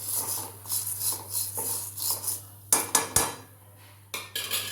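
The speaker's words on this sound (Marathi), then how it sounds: "आता एकदम गॅस आपल्याला मंद ठेवून आपल्याला ही मुगना भाजून घ्यायचं आहे" Moong dal dry-roasting in a kadai over a low gas flame, stirred with a metal spoon that scrapes and clinks against the pan in repeated short strokes, close and fairly loud.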